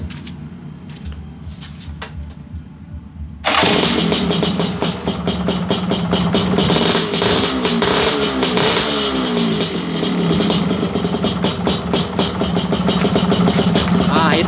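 A Honda L2 Super motorcycle with a newly fitted starter cranks and its engine catches at once, then runs loudly and steadily with a rough, busy idle; a voice talks softly before it starts.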